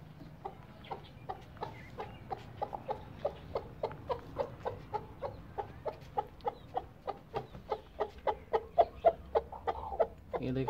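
A hen gives a long run of evenly spaced, repeated clucks, steady and close, growing slightly louder toward the end over a low background hum.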